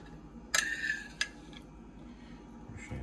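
A metal tablespoon clinks sharply against a container while scooping tartar sauce, with two bright taps close together, then faint scraping and small clatters in a quiet room.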